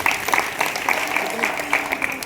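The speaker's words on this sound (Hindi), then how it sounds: "तालियां बजा दो, इतनी बड़ी बात कर।" An audience claps at a religious gathering, a brisk burst of hand claps at fairly close range, steady and continuous for a couple of seconds.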